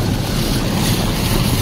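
A Renault Kwid car pushes through river water while off-roading, giving a loud, continuous rush of churning water mixed with heavy wind buffeting, with no talking.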